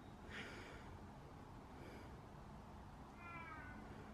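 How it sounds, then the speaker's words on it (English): A dormitory cat meows a few times at moderate distance, short harmonic calls at the start, middle and end, over steady background noise. "one of our dorm cats."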